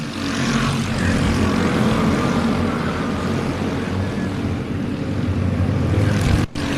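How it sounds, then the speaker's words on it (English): Youth series race cars, Heavy Honda class at Castle Rock, roaring down the front straightaway in a dense, continuous engine drone that swells and holds loud, with a brief dropout near the end. "Bristol Spicola makes the move for the lead down the front straightaway"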